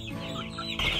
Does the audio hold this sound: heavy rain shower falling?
no